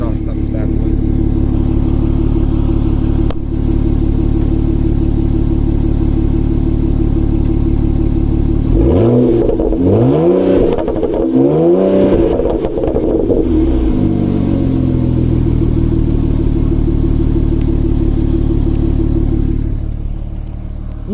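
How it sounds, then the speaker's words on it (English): A manual BMW E93 335i convertible idles with a deep, steady exhaust drone. Midway it is revved several times in quick rising and falling sweeps, then it settles back to a rumbling idle, heard up close. "so you guys can hear the exhaust on this bad boy"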